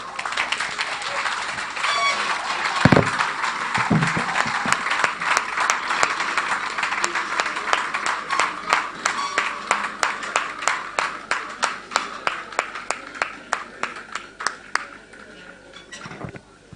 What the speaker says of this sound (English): Please, another hand of applause for Prof.